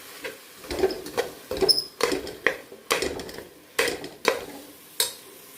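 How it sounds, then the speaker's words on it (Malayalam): Garlic-ginger paste stirred in a pan for beef vindaloo, heard as a steady series of spoon scrapes against the pan with a faint sizzle between strokes, close and moderately loud. "ഇത് നല്ലതുപോലെ ഒന്ന് ഇളക്കാം."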